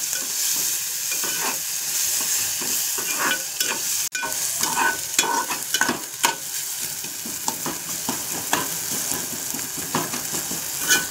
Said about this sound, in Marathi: भाजून घेऊया मस्तपैकी.